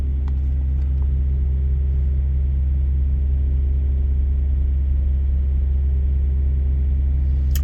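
A 2023 Kenworth T680 truck idles with a loud, steady low diesel rumble that holds unchanged throughout, with a few faint clicks near the start and no talk.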